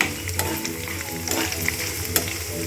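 Green chillies, garlic and tomato frying in oil: a dense, close sizzle throughout, with a few sharp utensil clicks and scrapes against the pan, and no talking.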